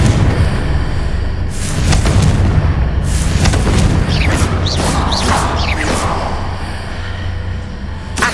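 A Confringo blasting spell explodes in Hogwarts Legacy, loud booming blasts with crackling debris and whooshing spell effects, dense continuous rumble throughout.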